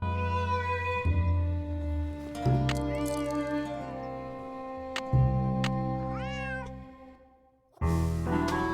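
Several cat meows from the Nancy Drew game Secret of the Old Clock over a steady musical backdrop with tonal game-like sounds; the meows rise and fall, moderately loud, with a brief pause near the end.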